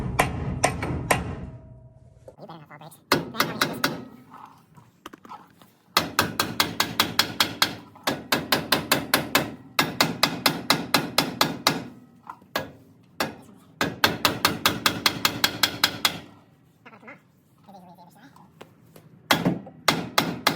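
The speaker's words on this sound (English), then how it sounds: "What you wanna do is you wanna take your rubber mallet" Rubber mallet repeatedly striking the spindle of a 1997 Ford F250 XLT HD 4x4, loud close bursts of rapid blows with brief pauses between, a little talk early on.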